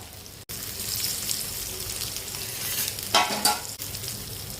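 Fish pieces fry in a pan for a Malvani-style meal with a close, steady sizzle, along with stirring scrapes and a louder crackling spatter toward the end.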